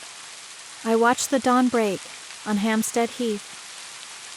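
Steady rain falls continuously as a soft, even hiss beneath a calm narrator's voice reading aloud.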